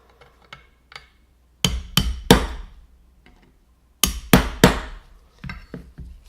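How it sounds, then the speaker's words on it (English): A hammer strikes a pin punch while driving the pins out of a Remington 870 shotgun: two clusters of three sharp metallic hits, close and distinct, with faint lighter taps in between. "I'm just gonna use this pin punch here and punch them out"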